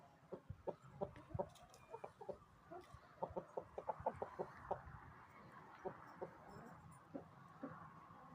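Very young chicks give soft, rapid peeping and clucking calls in scattered bursts, close by and fairly quiet, with brief pauses between clusters.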